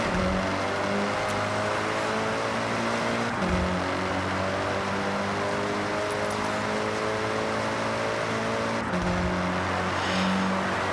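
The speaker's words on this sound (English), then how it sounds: "for the last leg of this race, I'm gonna let you guys listen into this Evo 8" A Mitsubishi Evo 8 Welcome Pack Edition races in the video game Forza Horizon, with a steady loud engine drone that climbs in pitch through the gears, broken by two brief shift drops.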